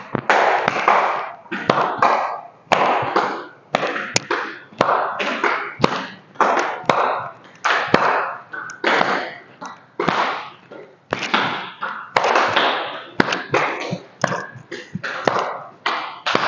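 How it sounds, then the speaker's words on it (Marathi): Claps from a warm-up exercise routine, hands striking in front and then behind the body, a steady, repeated rhythm of sharp, loud slaps mixed with short bursts of voice. "दोन्ही हात समोर घेऊ, समोर टाळी,"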